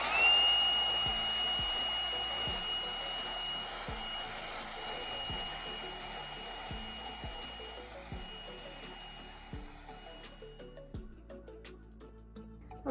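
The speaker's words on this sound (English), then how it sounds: "going with this drill and this wire brush kind of cleans up easier all this" A power drill spins a wire brush against birch bark, giving a steady whirring drone with rhythmic scraping ticks that slowly fades and turns choppier toward the end, with no voices.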